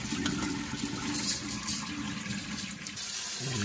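Soaking water from rice pours out into a colander in a continuous close gush and splatter, steady and fairly quiet throughout, with no talking.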